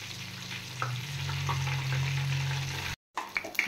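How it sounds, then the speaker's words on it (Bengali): Water lily (shapla) stems in batter frying in hot oil, a steady close sizzle with soft stirring clicks and a low hum underneath, then a brief break before the bubbling resumes. "ভাজা হয়ে গেছে, এবার আমি নামিয়ে দেব।"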